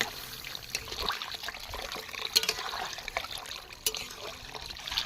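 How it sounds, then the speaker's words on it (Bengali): Water poured into a pot of fried potato and taro, a steady close trickle and splash with small drips and bubbling bursts running throughout. "এবার পরিমাণ মতো আমি জল দিয়ে দেবো"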